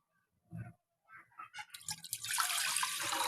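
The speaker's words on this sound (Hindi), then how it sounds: "प्यारे से पैन में डालेंगे पानी" Water is poured into a pan for Kashmiri tea: a few drips and splashes first, then a steady hissing, splashing stream that builds and keeps running, close by and with no voices.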